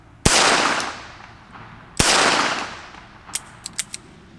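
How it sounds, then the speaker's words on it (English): Two sharp gunshots from a Rossi .22LR snub-nosed revolver, each a loud crack followed by a long ringing decay, about 1.7 seconds apart, then a handful of quick, fainter metallic clicks. "I'm shooting guns that are not the easiest to shoot necessarily. Short barrels, small guns"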